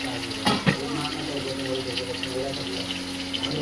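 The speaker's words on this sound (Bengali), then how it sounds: "জল দিয়ে দিয়েছে, এখন ফুটবে টকবক করে তরকারিতে।" Water poured into a pot of curry on the stove, a couple of splashing gushes early on followed by a steady soft trickle and bubbling, fairly quiet.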